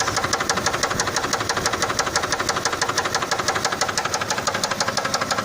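A Vauxhall Frontera 3.2 litre V6 petrol engine running with a loud, rapid, regular knocking tapping over a steady mechanical drone, recorded close with no talk.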